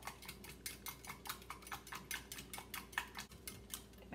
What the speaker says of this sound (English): I'm gonna go ahead and take an egg. And then we'll just go ahead and whisk this together good